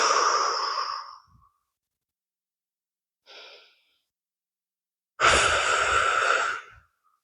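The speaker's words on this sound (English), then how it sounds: "We're safe enough to take a long exhale." A long, slow breathing exercise: a broad breathy exhale lasting about a second, a short faint breath midway, then a second, louder sustained exhale of over a second, close and alone with no talking.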